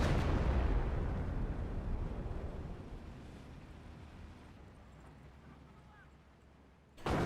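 Artillery barrage in the Company of Heroes 1 strategy game: a loud, broad rumbling blast at the start slowly fades into a low, windy roar, then a sharp new impact bursts in right at the end.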